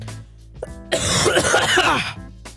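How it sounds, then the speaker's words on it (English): A loud, harsh cough blasts right into the microphone, rough and throaty, lasting over a second before cutting off. "You think coughing straight into the mic would work?"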